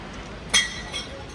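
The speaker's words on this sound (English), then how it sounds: "So we just throw our glass into there." Glass clinks as it is tossed into a recycling bin: one sharp, bright clink followed by a fainter second clatter, heard nearby over a quiet outdoor background.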